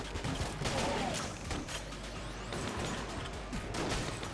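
In the Enter the Gungeon video game, piercing crossbow bolts set off a dense, continuous barrage of explosions and impacts. The crashing and popping stays loud for several seconds, with no talking over it.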